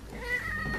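An unhappy cat meows while being carried out of a room, one short drawn-out complaining cry, fairly close and moderately loud.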